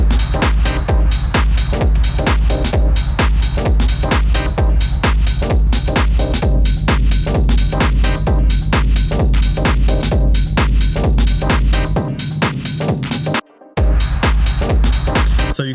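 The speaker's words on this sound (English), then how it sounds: "with all the other elements together, the kick sounds like this" A techno kick drum with rumble, layered with the other elements of a full track: a steady, loud four-on-the-floor pulse under dense percussion and synths, running continuously with one brief dropout near the end.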